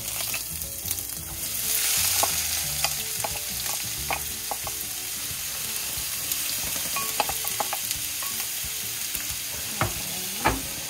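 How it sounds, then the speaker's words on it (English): Onions browning in oil in a pan for a three sisters soup, giving a steady close sizzle throughout, with scattered clinks and scrapes of stirring on top. "We're gonna put a little bit of oil in the pan, and we're to be able to do our onions. We're gonna brown our onions."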